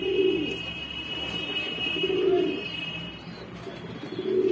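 Saharanpuri and Allahabadi flying pigeons coo softly in low repeated throaty pulses, nearby but faint, with a thin steady tone and light background hum.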